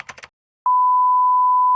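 A drone's beeper sounds one loud, steady, continuous tone of about a second after a brief bit of noise, with nothing else audible.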